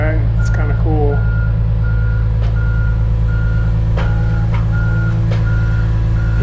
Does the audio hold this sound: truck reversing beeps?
yes